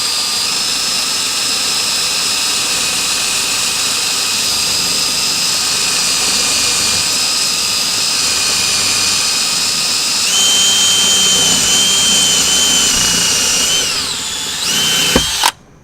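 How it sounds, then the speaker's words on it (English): A power drill with a 9/64 bit drills out a rivet on a 2018 Volkswagen Tiguan for speaker removal, a steady loud high whine that holds for the whole stretch, rises briefly, then winds down and cuts off at the end. "Alright, so we're using 9/64 bit to start."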